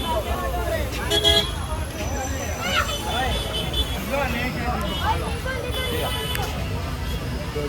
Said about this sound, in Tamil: செம்ம டிராஃபிக் ஆகுது பாருங்க.